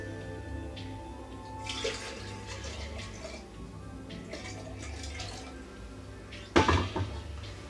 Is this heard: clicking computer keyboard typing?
no